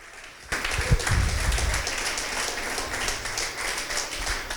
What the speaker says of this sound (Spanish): Fuerte el aplauso al Cristo de la gloria.